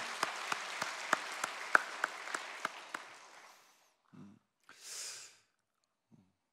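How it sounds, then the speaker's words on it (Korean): A church congregation claps in unison with steady rhythmic beats that fade over a few seconds, followed by a couple of breaths and quiet. "하나님께 영광과 감사의 박수 올려드립니다"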